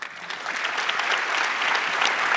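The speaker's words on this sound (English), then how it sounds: "Kind of awkward to clap for yourself." Audience applause at a community gathering, a steady broadband patter of many hands clapping that builds slightly and holds for the whole stretch, with no talk over it.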